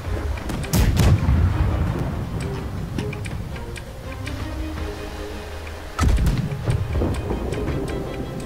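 Cannon broadside from a ship in the naval game Blackwake, heavy booming shots in two bursts with a rolling rumble and scattered ticking in between, loud and close.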